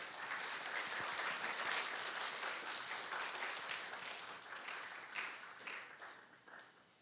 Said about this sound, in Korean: 이 시간 박수로 앞으로 모셔보도록 하겠습니다